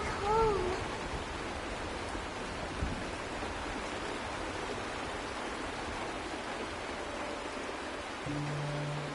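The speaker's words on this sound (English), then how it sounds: "This is the sound of rain." Steady rain falls in the Star Rail video game as a soft, even hiss throughout, with faint tonal notes briefly surfacing near the start and the end.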